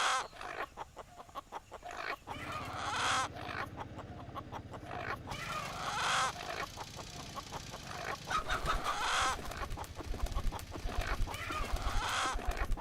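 A rooster clucks repeatedly and crows over a noisy, cluttered background, the calls recurring throughout at moderate loudness.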